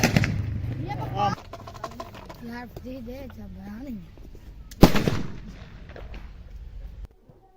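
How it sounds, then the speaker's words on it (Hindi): A homemade village jugaad contraption goes off with sharp gunshot-like bangs, one loud crack in the middle standing out, while voices carry on around it. "इसकी कमाल की आवाज है, ऐसे लगता है कि जैसे कोई बंदूक या पिस्टल वगैरह चलाया हो"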